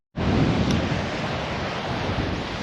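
Strong coastal wind buffets the microphone in a steady, loud roar, with surf noise blended underneath, near Port Muck on the Northern Irish coast.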